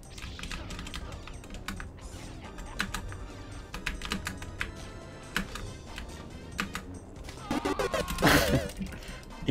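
Rapid clattering of computer keyboard keys pressed during a LEGO Star Wars game, dense irregular taps close up with a louder burst of game noise near the end.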